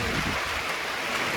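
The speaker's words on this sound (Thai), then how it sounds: "วันนี้ฝนตกเป็นละอองฝน" Light drizzling rain hisses steadily and evenly on Khao Khitchakut mountain, close and continuous without voices.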